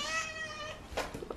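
Pet cat meowing close by, a drawn-out harmonic cry followed by a couple of shorter chirping meows, fairly clear with no talk over it.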